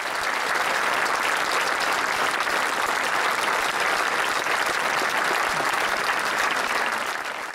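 Steady, dense audience applause fills a hall during a folk dance gala celebrating a dance ensemble's 35th jubilee, loud and continuous throughout with no talk, easing slightly at the very end.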